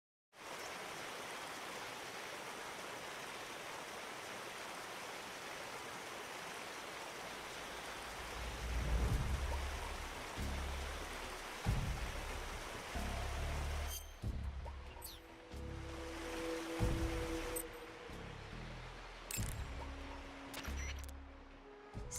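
A rushing stream and waterfall in the Metal Gear Solid Delta: Snake Eater video game, a steady broadband water roar throughout, joined later by thuds, footsteps and brief tonal game sounds.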